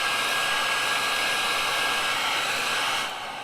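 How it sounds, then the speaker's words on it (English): A hair dryer blows steadily and loudly at close range over freshly stenciled paint, a continuous airy whoosh that drops in level just before the end. "I'm going to hit this with a hairdryer really quick"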